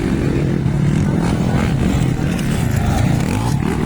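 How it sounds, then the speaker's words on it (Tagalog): Loud, continuous roar of motocross bikes racing an intermediate-class event at a Libona motocross track, engines droning steadily close by with no talk. "sobrang lakas talaga ang motor ni Jam sa Burao"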